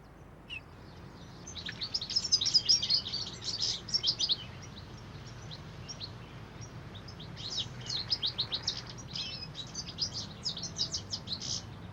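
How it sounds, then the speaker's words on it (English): Goldfinches sing a tinkling, twittering song while feeding on thistleheads in London, with bursts of bright chirps and trills coming in clusters over a steady low background hum. "The dazzling colour and tinkling song of goldfinches as they feed on thistleheads is a common sight in London."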